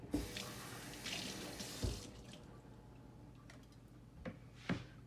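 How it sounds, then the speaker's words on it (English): Kitchen tap water running briefly while rinsing leftover seeds out of a bell pepper for sofrito, followed by quieter drips and small splashes in a sink. "You're going to rinse it out with water if there's any remaining tiny seeds inside that you can't get."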